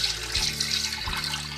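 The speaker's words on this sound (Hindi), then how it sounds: "अब हम इसके अंदर डालेंगे पानी" Water poured into a pot of meat to make stock for Kabuli pulao, a steady close splashing pour with no one talking.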